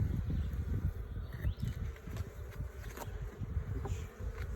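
Carniolan honeybees from a large, opened hive drone in a dense, continuous buzz during an inspection, close and steady, with no speech.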